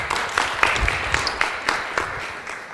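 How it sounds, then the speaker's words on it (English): A conference audience claps for a few seconds after a speaker introduction, a scattered mix of hand claps with sharper individual slaps, fading slightly toward the end. "let's run some applause for him"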